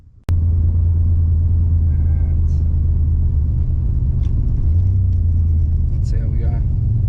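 Turbocharged Holden VN V6 car accelerating with extra boost heard from inside on a ride, a loud steady low engine rumble that rises in pitch partway through, with faint whistle-like tones and a brief voice.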